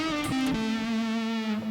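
A guitar played through a distortion effect on a Yamaha SX900 keyboard's microphone input, a short buzzy sustained note with a slight pitch drop, loud and alone.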